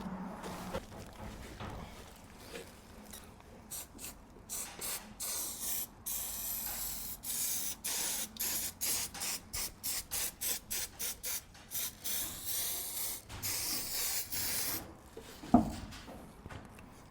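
Repeated short bursts of spray glue hissing from an aerosol can in a steady rhythm, each a few fractions of a second, close by with faint handling noises between, while fitting HVAC supply duct.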